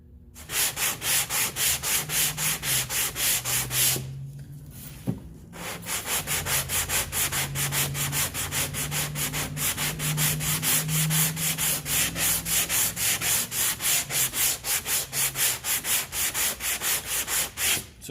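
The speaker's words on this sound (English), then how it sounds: "I was blocking sanding" Sanding block rubbed by hand across an auto body panel during dent repair, a steady rhythmic back-and-forth rasp of paper on filler with a brief pause midway, close and continuous.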